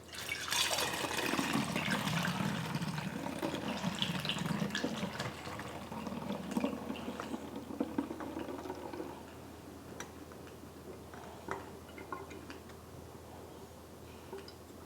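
Chive blossom vinegar poured from a jar, a steady close liquid stream and splashing for about nine seconds, then tapering to fainter drips and trickles, with no talking.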